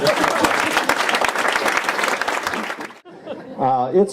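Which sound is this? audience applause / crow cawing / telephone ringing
audience applause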